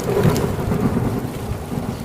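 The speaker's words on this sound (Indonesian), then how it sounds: "hujan yang ditunggu untuk reda nyatanya tidak juga reda" Steady rain with a low rumble of thunder on the slopes of Mount Salak, beside a small campsite of a few tents; a continuous dense wash of rainfall with distant rolling thunder, no voices.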